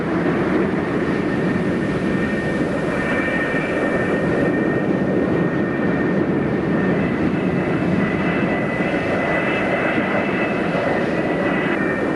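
Jet engines roar steadily on an aircraft carrier flight deck as F-4E Phantoms are guided onto the catapults, a loud, continuous, broadband whine that stays even with no talk.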